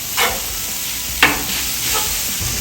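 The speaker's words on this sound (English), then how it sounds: "You can even just smash them a little bit with your spatula." Tater tots frying on a Blackstone griddle, a soft steady sizzle with three scraping, smashing strokes of a metal spatula, one sharper than the others.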